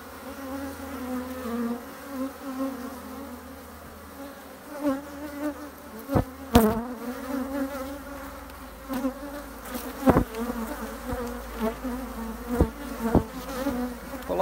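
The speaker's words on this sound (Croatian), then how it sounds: "polako zalazi sunce pa su malo pčele one nervoznije jer dolaze one starije" Honeybees swarm around an open hive box at sunset as frames of pollen and brood are handled, a steady, dense buzzing close by with sharp clicks and knocks from the woodwork.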